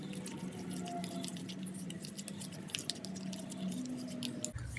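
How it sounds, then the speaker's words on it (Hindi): Aloe vera hair mask ingredients being stirred together in a bowl, giving wet, squelchy dripping and sloshing sounds that run steadily throughout at close range, with no talking. "हमने इसे अच्छा सा मिक्स कर लिया है"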